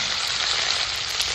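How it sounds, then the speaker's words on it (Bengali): Chopped onions fry in a pan with bay leaf and tempering spices, giving a brief, loud, close and dense sizzle that holds steady throughout. "এরপর কুচনো পেঁয়াজগুলো লাল লাল করে ভেজে নেবো"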